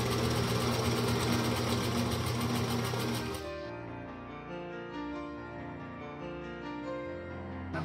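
Sewing machine stitching a fabric face mask with elastic, a steady loud motor whir that slows and softens midway as the stitching eases off, no talking.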